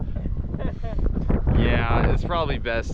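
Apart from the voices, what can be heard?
wind blowing on a cold, rainy day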